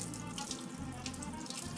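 Tap water runs steadily into a kitchen sink while a steak dish is being prepared, a continuous close splashing hiss with no voices.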